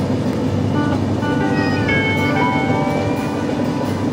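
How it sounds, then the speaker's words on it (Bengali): A passenger train climbs slowly up a hill on a curving line, a steady loud rumble of wheels on rails with high squealing wheel screech rising and fading across the middle. "এবার ধীরে ধীরে আমাদের ট্রেন উঠছে পাহাড়ে।"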